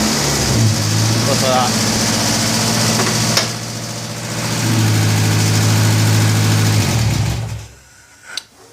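A Ford Ka banger racing car with a cut-down wiring loom cranks and fires up, then runs as a loud, close, rough engine note that idles, swells with a rev and settles before cutting off; someone speaks over it.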